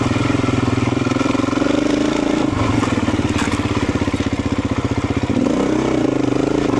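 A Beta 350 RE dirt bike lugs along at very low speed in fourth gear, its single-cylinder engine thumping in a rapid, uneven pulse close by, briefly chugging harder before smoothing out.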